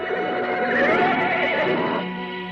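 A horse gives a loud, close neigh that rises and wavers for about two seconds, then trails off into a softer tail, with no talk over it.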